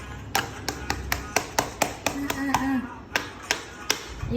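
Slime pressed and clapped between hands, a dozen sharp slapping claps in a steady irregular rhythm, close and fairly loud, with a voice faintly underneath.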